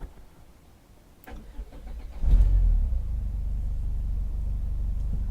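A 1.8-litre Renault Clio engine cranks briefly, catches with a loud rise, then settles into a steady, close idle hum.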